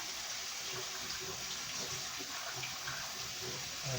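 Tap water runs steadily in a kitchen sink as beans are rinsed for a bean and bacon soup, a continuous broadband splashing hiss that stays fairly even throughout with no talk over it.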